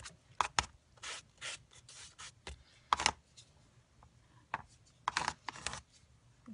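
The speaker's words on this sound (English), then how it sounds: "I am just scraping up that paint." Scraping up gesso paint with a tool on a painting surface: quiet, short dry rasping strokes repeated irregularly, close and alone.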